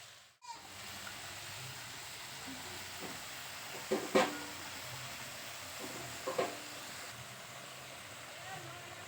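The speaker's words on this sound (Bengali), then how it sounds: "এবার পুঁইশাকটা খুব ভালো করে নাড়তে হবে যতক্ষণ না পুঁইশাকটা সেদ্ধ হয়ে গিয়ে পুঁইশাকের থেকে জল বের হচ্ছে" Chopped Malabar spinach is stirred with mixed vegetables in a hot pan, a steady sizzling hiss with a few scraping stirs of a spoon against the pan, heard close and continuous.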